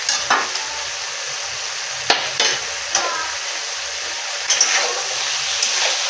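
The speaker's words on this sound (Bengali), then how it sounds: "মশলার সাথে কিছুক্ষণ কষে নেব।" Vegetables that were fried earlier are stirred into a ground spice paste in a pan for a Bengali rui fish curry, giving a steady sizzle broken by a few louder scraping stirs, close by with no talk.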